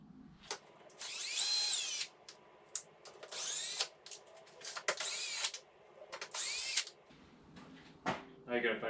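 A power drill or driver spins out 8mm bolts from the side fairing pieces of a 2022 Kawasaki Ninja 650, in several loud bursts of whirring with short pauses and ratcheting clicks between them, up close.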